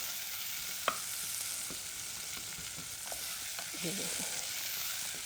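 Onions and curry leaves frying in a pan, a steady soft sizzle with intermittent stirring scrapes and a sharp utensil tap early on, fairly faint and close.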